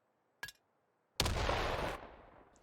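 Grenade explosion in the multiplayer shooter Battalion 1944: a short faint click, then a sudden loud blast with a broad rumbling roar lasting under a second before fading, with no voices.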